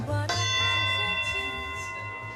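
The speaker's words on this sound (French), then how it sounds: "C'est la cloche du grand-père en plus, je crois," A single bell in a hotel is struck once and rings on with a clear, sustained tone, slowly fading over a low background hum.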